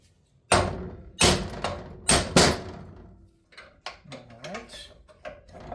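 Sharp metallic hammer blows on a brass punch driving bearings out of a Honda S2000 differential housing: four loud strikes in the first half, then quieter clinks and handling knocks.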